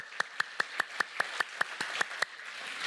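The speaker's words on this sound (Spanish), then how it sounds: "Dele palmas al Señor." A congregation claps in a church service: about a dozen sharp, evenly spaced claps keep a steady beat, then stop.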